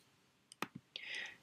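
A few sharp computer mouse clicks close to the microphone, quiet and isolated, with a brief faint hiss of other sound just after.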